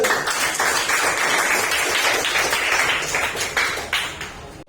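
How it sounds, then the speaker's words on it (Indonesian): Students in a classroom clap for the first presenting group, a loud, dense burst of many hands that holds steady, then thins out and dies away near the end. "Berikan tepuk tangan untuk kelompok 1."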